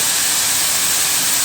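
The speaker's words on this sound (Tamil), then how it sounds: "இப்போ ஒரு 2-3 நிமிஷத்துக்கு மட்டும் இந்த காய்கறிகளை சேர்த்து வதக்கி விட்டுக்கலாம்" Vegetables sautéing in a pan for a Tamil wheat-flour tiffin recipe, a loud continuous sizzling hiss that holds steady throughout.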